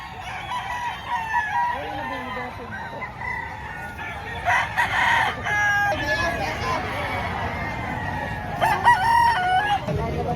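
Chickens and roosters at a poultry market in Padre Garcia, Batangas, with repeated crowing and clucking from several birds near and far over a steady crowd babble.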